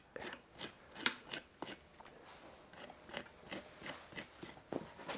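A tool shaves and cuts wood on a bonsai being shaped to sit on a stone, making a quiet series of crisp snips and scraping strokes in an irregular rhythm, close and alone.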